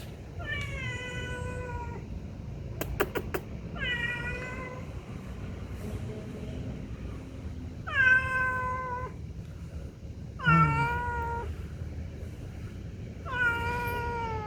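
A cat at a factory workplace meows repeatedly and insistently, about six loud, close drawn-out calls spaced a couple of seconds apart over a low background hum, with a brief clatter partway through.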